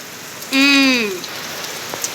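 Heavy rain falls in a steady, even hiss, with a brief tonal, whistle-like sound rising over it for about half a second early on.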